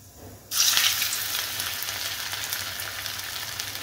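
Chili fish hits deep hot oil with a sudden loud sizzle that settles into steady, vigorous frying, close and alone with no talk.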